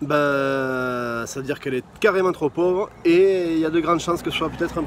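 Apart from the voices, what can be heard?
No everyday noise stands out behind the speech.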